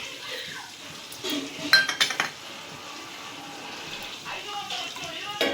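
A spoon stirs roasted coriander powder into a pot of fish curry (chapala pulusu), with a few scraping strokes and sharp metallic clinks against the pot around the middle, over a steady background hiss.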